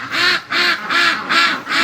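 Five loud, close duck quacks in an even rhythm from breeding ducks outdoors on a freezing night.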